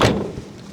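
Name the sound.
van door being shut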